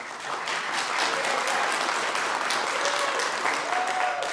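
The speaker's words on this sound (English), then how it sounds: "hold your applause because you might not like the next thing" Audience applause at a city planning and zoning commission meeting, steady sustained clapping from a roomful of people at moderate distance, with no talk over it.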